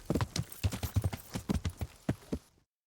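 Horse hooves clip-clop in a video game set in medieval Bohemia, a quick trotting rhythm of dull, close thuds for over two seconds before cutting abruptly to silence.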